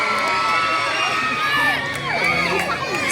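Pageant crowd at a national costume parade cheers, whoops and shouts loudly and continuously, with many overlapping high voices forming a dense, sustained roar.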